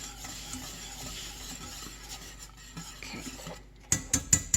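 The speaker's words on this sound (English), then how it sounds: "sprinkle them in slowly and use a whisk to stir them around quickly" Grits are whisked in a pot: quiet scraping and swirling at first, then a burst of four or five sharp, clinking knocks of the whisk against the pot near the end.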